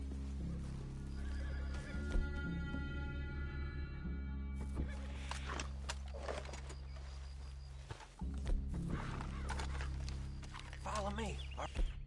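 Horses in the Red Dead Redemption 2 game whinny loudly and clop along with footsteps in a wild outdoor setting, the neighs rising over a low rumbling backdrop while people talk intermittently.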